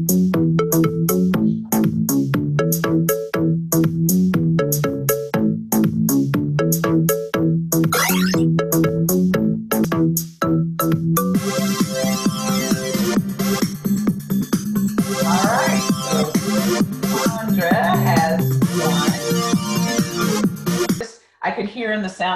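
Quizlet Live classroom game sound effects play as a run of bright repeating chime and ringtone-like tones, later with busier jingles and dings. Faint background voices may be present.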